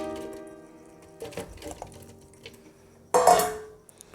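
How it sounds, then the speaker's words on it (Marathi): Cut watermelon pieces are tipped into a juicer jar, ending in a sudden close clatter and wet thump after a few soft handling knocks and quiet background tones. "चला आपण आता हे कट करून घेतलेलं टरबूज आहे ना, असं टाकून घेऊयात ज्यूसच्या भांड्यामध्ये"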